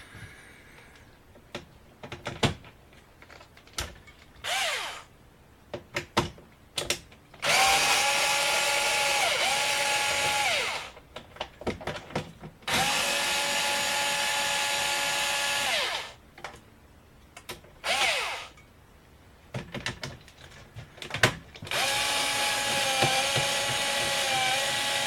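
A power tool runs in repeated bursts of several seconds each while unscrewing screws from an HP TouchSmart all-in-one computer, a steady whine with short pauses and faint clicks and handling noises between runs.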